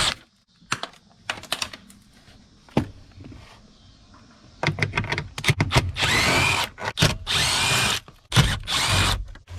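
A power drill backing 8mm screws out of interior trim on an Audi B8.5, heard as short, loud, close whirring bursts separated by pauses and clicks of handling, growing denser toward the end.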